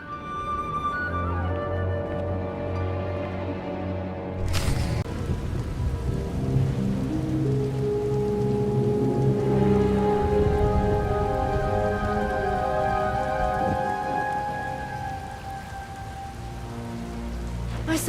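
A video game thunderstorm with steady heavy rain on surfaces and a sudden loud thunder crack, followed by long rolling rumbles over the constant downpour, with no voices.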